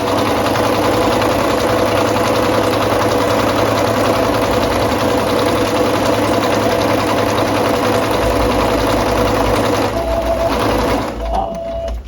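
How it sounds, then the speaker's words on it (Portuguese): A sewing machine stitches a pleat seam on a skirt, a steady close motor whir running throughout before slowing and stopping near the end with a brief backstitch. "vamos lá na máquina fazer essa costura"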